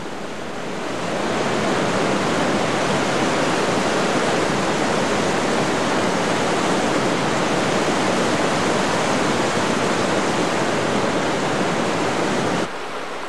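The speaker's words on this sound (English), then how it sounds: "It is natural for a river to flood like this" A river in flood roars past, its rushing water a loud, dense, unbroken wash that holds steady for most of the stretch before easing slightly at the end.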